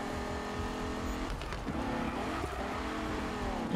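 A Golf car in the Need for Speed racing game slides sideways in a drift while being chased by cops. The engine drones steadily throughout, with faint tire squeal mixed into the roar.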